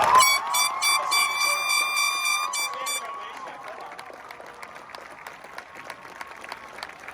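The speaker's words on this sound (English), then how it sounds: "if we could get a way bigger round of applause for Mr. Fusco." Audience applause at a graduation ceremony, loud sustained clapping that tapers off into scattered claps, while a bright tonal sound rings over the start for about three seconds.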